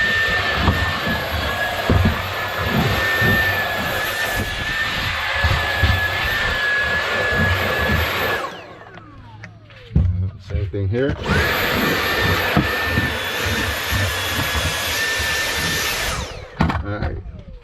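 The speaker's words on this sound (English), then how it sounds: "So I got my Dyson like vacuum here" A Dyson-style vacuum cleans the interior of an FL5 Honda Civic Type R, its loud high whine running in two long bursts with a short pause between, while someone talks briefly over it.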